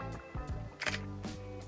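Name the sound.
camera shutter taking a picture with Viltrox 33mm lens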